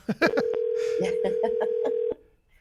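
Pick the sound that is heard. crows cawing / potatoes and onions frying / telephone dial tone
telephone dial tone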